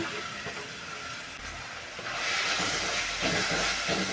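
Chopped tomato hitting a hot pan of softened onions for a ridge gourd kuzhambu, the frying hiss swelling to a louder, steady sizzle partway through, with no talking.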